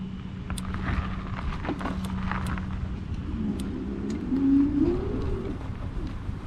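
A car passing on a road, a faint approach that swells briefly mid-clip over steady wind and low outdoor rumble.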